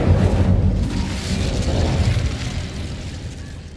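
Incendio fire spell cast in Hogwarts Legacy, a loud, close roaring burst of flame that rumbles on steadily and slowly fades, with no talk.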